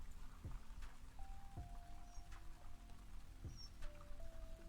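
Light rain pattering in a forest, soft continuous drops with a few heavier plops standing out at intervals, fairly quiet and close around, with no talking.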